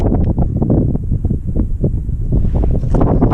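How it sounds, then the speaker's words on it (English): Strong wind gusts buffet the microphone at the Wildrose charcoal kilns in Death Valley, producing a loud, rumbling roar that surges and eases throughout. "it's getting windy"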